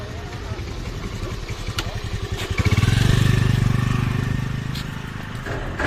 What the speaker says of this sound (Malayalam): ഒരു ബൈക്ക് വരുന്നത്